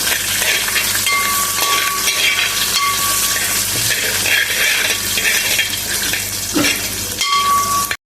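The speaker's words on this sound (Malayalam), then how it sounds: "കുറച്ച് കറിവേപ്പില ഈ ഒരു സമയത്ത് ചേർത്ത് കൊടുക്കാം ചേർത്തിട്ടുണ്ട് ഇതൊന്ന് ഇളക്കി കൊടുക്കാം" Curry leaves being stirred into a frying beef peralan, a constant broadband sizzle with scraping stir strokes, steady and close, no voices present.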